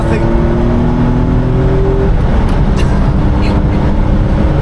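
A Jaguar XJ220 engine revving while driving, heard from inside the car: a loud continuous low engine roar with a rising pitch that levels off, and a voice speaking over it.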